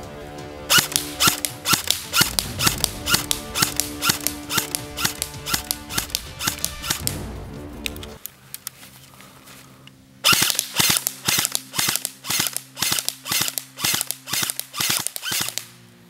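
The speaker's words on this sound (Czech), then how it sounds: "A nyní vyzkoušíme, jak ultimátně přesná je zbraň střelbou z leže." An ICS SIG SG551 SWAT airsoft rifle fires from the prone position in a long run of sharp, rapid clicking shots, then a short pause, then another fast, loud burst.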